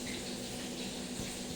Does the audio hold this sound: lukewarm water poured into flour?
yes